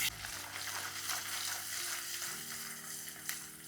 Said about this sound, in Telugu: ఇలా పన్నీర్ని వేయించుకొని పక్కకు తీసేసుకోవాలి